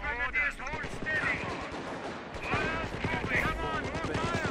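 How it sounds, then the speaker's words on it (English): Gunfire rattles in the Company of Heroes strategy game, with rapid machine-gun bursts and shots mixed among battle noise, while in-game unit voices talk over the combat throughout. "Incoming gunfire."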